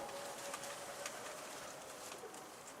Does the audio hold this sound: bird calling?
yes